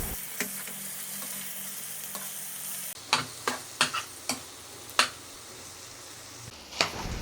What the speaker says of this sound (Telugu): ఎగ్స్ అనేది ఇంకా ఉడకలేదండి. ఇప్పుడు ఒకసారి తిప్పేసుకొని ఒక 2 నిమిషాలు మూత పెట్టేసుకుందాం.